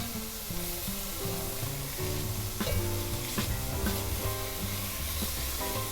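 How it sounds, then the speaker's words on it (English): Onions sizzle and fry in a pan, a steady crackle running throughout with a few stirring clatters and a tonal musical hum underneath. "we are going to saute this for just a minute"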